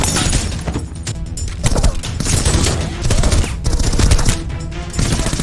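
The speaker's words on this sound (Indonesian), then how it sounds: "Baku tembak terjadi" Bursts of film gunfire fill a dense, loud exchange of overlapping shots with crashing impacts, carrying on steadily throughout with no pauses.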